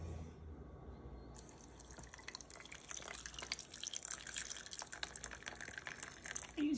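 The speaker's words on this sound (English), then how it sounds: "next, hot water." Hot water poured into a cup over ice, syrup and instant coffee for an iced coffee, a steady close splashing and trickling stream with dense drips, heard alone.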